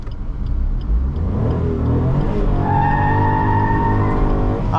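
A third-generation Maruti Alto K10 pulls away in first gear, its small engine note rising steadily and loud throughout, with a strong close-up hum and no talking.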